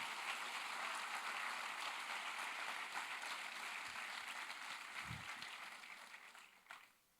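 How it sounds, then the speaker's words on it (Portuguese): A church congregation applauding during a sermon, a steady dense wash of clapping that fades out toward the end. "Aplauda o Senhor, querido."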